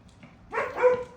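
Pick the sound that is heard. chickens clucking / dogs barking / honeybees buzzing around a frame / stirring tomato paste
dogs barking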